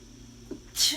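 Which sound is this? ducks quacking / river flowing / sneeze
sneeze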